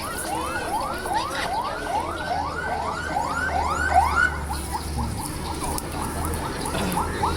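An emergency siren, from a fire engine or ambulance at a house fire in Wajo, wails in a rapid repeating up-and-down pattern, then shifts to a slower tone, sounding at moderate distance.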